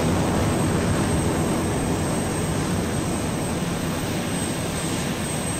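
A fixed-wing airplane engine in the video game Arma 2 drones steadily and loudly throughout in flight, a constant dense roar with no talk.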